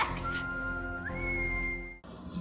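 A woman in a town hall gives a long, steady whistle, holding one pitch before sliding up to a higher tone for about two seconds, loud and close, with no talk over it.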